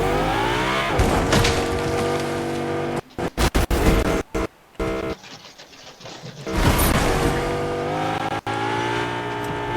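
Car driving in a video game running on an old Alienware computer with an Nvidia RTX 2080: a steady engine drone that stutters and cuts out in choppy dropouts midway before the roar resumes.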